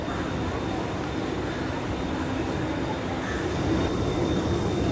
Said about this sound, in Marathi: ट्रेन दिसते इथून.